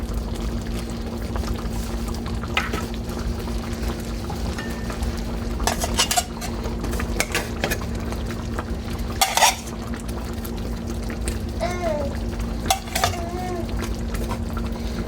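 Hamburger patties being set back into simmering gravy in a pan for Salisbury steak: soft clinks of utensil on pan and a few liquid stirring sounds over a steady low hum of cooking.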